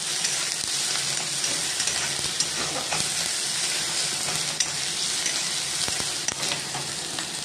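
Tomato masala sizzles and fries steadily in a pan as coriander and cumin powder are stirred in, a continuous close hiss with small crackles and no talking.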